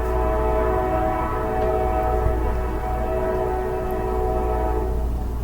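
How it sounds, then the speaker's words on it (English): A train rumbles past at a steady, moderate distance, its horn sounding in a long sustained tone over the rolling noise of the rail cars. "That's a train. I haven't heard a train in so long."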